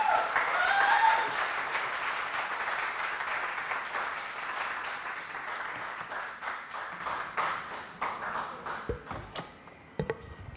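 Loud applause from an auditorium audience welcoming a guest at a Pakistan Independence Day show, dense at first and then thinning into scattered individual claps.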